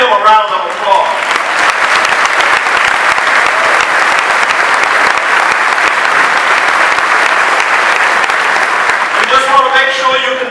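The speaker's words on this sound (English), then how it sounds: "Let's give him a round of applause." Sustained applause from a large audience at a 2015 Western Illinois University graduation commencement, steady and loud for about ten seconds before fading, with a voice speaking briefly at the start and end.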